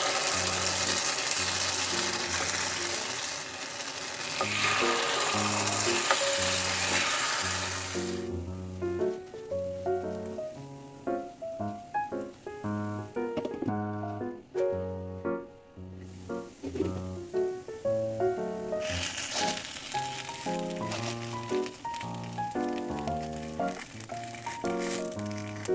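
Bandros cake batter cooks in a Teflon pan, a steady sizzle that holds loud for several seconds, then a quieter stretch with music playing over it.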